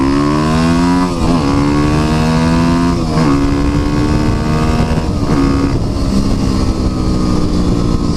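A streetbike motorcycle pulls hard up through first to fifth gear, loud and close, its engine note climbing steeply and dropping at each of four quick shifts before climbing again.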